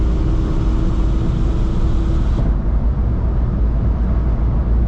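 VW drag car engine roaring loud and steady at close range as a shift into third gear is missed, the engine note holding a constant drone throughout.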